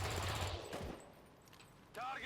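Gunfire in the XCOM 2: War of the Chosen video game, with a short burst of shots and a loud, dense volley that quickly fades, then a voice briefly speaking.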